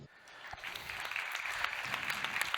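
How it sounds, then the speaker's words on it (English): Steady applause from a conference audience after a science communication talk, a continuous even patter of many hands at moderate volume, with no voices over it. "I hope you can hear the applause"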